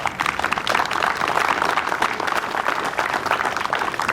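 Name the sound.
applause for fundraising team captains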